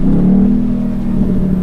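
A car engine holds a loud, steady drone while a driver downshifts its automatic transmission, with a strong low tone and no speech.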